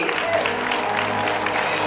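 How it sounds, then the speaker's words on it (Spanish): Audience applause for the first princess of the Expoferia Gálvez 2011 pageant, a steady dense clapping that fills the whole moment without letup. "fuerte ese aplauso para Agustina Serinelli"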